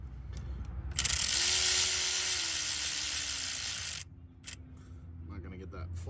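A ratchet works on vacuum pump gasket bolts of a Ford 6.7 Powerstroke engine, a close steady clicking and whirring burst lasting a few seconds, then a couple of softer clicks.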